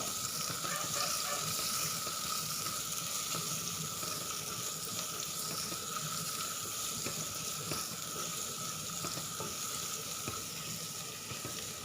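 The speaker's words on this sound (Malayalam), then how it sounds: "അതിലേക്ക് ഒരു മീഡിയം സൈസ് സവാള അരിഞ്ഞത് ഇട്ട് കൊടുക്കാം നന്നായി ഇളക്കി യോജിപ്പിച്ച് കൊടുക്കുക" A medium-size chopped onion fries in a pan while being stirred, making a continuous, even sizzle with soft, faint stirring scrapes underneath and no voices.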